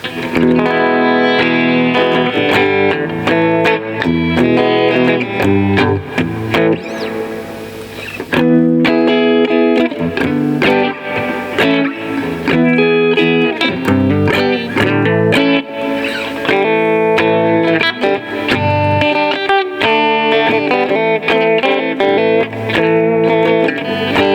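An electric guitar, a PRS 24 copy, plays a steady run of chords and notes through a Fender Deluxe VM amp, with a touch of reverb and some grit, continuous and fairly loud.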